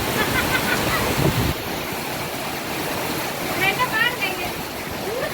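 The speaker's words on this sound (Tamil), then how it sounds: "ஐயோ கடல்ல காத்து பாருங்க" Strong wind buffeting the microphone beside the sea in rain, with waves and surf washing in as a continuous loud rush, while people talk over it.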